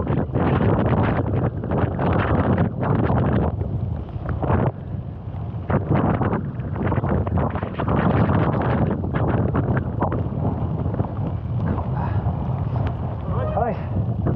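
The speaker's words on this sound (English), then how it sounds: "this wind is picking up" Strong wind buffets the microphone on the climb up Yr Wyddfa in Wales, a constant roaring rush with gusting surges throughout, while a person talks over it.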